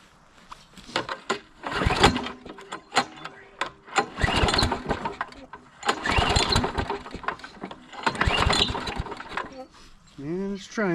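A primed snowblower engine cranks and sputters in repeated bursts, roughly four starting attempts with brief pauses between, loud and close, never catching into a steady run.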